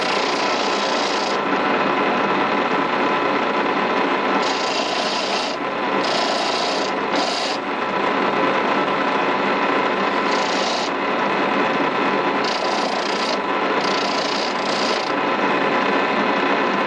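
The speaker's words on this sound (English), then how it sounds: "I finish it up with a little fine wire brush. This will take all the burrs off." Steady, loud scratching and rasping of a fine wire brush taking burrs off a horn, continuous with small shifts in intensity and no voices.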